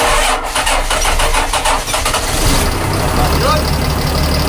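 A Mitsubishi 6D14 diesel engine cranks and catches, then settles into a loud, rough idle that stays steady to the end, with voices faintly mixed in.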